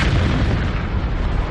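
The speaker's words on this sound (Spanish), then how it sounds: "En unos segundos se produce una enorme explosión." A huge meteorite impact explosion rendered as a documentary sound effect: a loud, dense, rumbling blast that fills the whole moment with deep roaring noise and no break.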